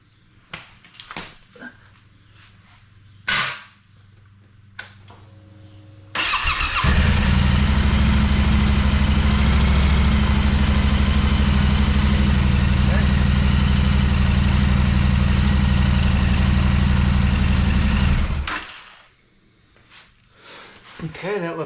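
A Yamaha Tenere 700 motorcycle engine cranks and catches after a few quiet clicks, then idles loudly and steadily at close range for about twelve seconds before being switched off.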